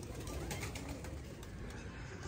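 Pigeons coo softly at a rooftop loft amid continuous faint outdoor noise, the low calls barely standing out in a short stretch.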